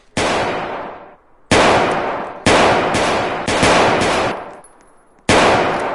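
Video game gunfire during shooting practice: five loud, close single shots spaced about a second apart, each ringing out with a long decaying tail before the next.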